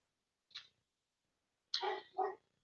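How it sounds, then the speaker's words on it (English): Dogs bark indoors: one short bark, a pause, then two quick barks close together, moderately near, with no talking over them. "Sorry, the dogs have heard something 42 miles away."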